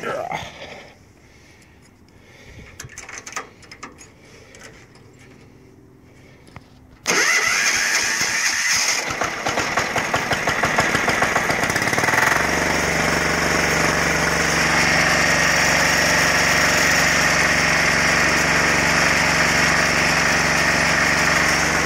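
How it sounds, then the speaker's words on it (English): A tractor's engine left unused for over a month cranks quietly, then catches with a sudden loud burst and settles into a steady, rough running chug that continues at close range. "Might as well do a dirty cold start because I don't want to push this out of the way"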